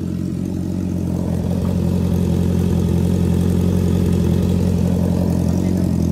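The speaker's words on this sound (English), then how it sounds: "You can still hear the deep bass tone from the exhaust" A Honda CB650R motorcycle exhaust idles with a deep, steady rumble at close range, a low bass hum with no revving or other sounds.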